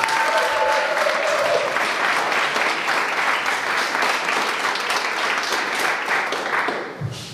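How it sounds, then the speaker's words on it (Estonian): Audience at a high school wedding-themed show in Lihula bursting into loud, sustained applause and scattered cheering, a thick continuous wash that carries on for about seven seconds before easing off at the end. "Aplaus!"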